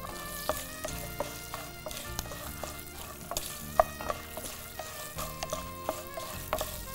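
Garlic cloves fry in hot oil with dried red chillies, fenugreek, chana dal and urad dal. An even crackling sizzle carries on throughout, alongside faint background music.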